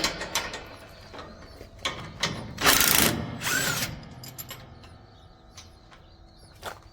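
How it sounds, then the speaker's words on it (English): A tool works a bolt loose from a trailer conveyor, giving close metallic ratcheting clicks and scrapes with two louder buzzing bursts in the middle, followed by quieter intermittent clinks. "I am going to take this bolt out."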